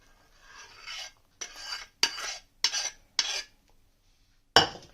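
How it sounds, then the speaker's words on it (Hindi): A spoon stirs melted jaggery into makhana and dry fruits in a pan, giving about six separate close, gritty scraping strokes with short pauses between them, and no speech. "इसको चम्मच से मिक्स कर रही हूँ"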